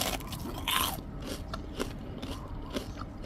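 Crispy fried shrimp being bitten, several sharp crunches and crackles at close range, with quieter chewing between the bites.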